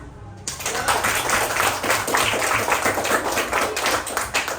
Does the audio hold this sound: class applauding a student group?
yes